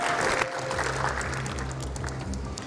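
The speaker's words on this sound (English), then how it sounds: "So another round of applause to the uh, Baze team as they exit the stage" An engineering summit audience gives a round of applause as a team exits the stage: many hands clapping in a dense, continuous burst with a faint low hum beneath, steady and fairly loud.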